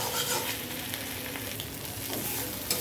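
Garlic, mustard and green chili spice paste stirred while frying in a pan, a constant close sizzle broken by spatula scrapes and a sharp knock near the end, with no talking.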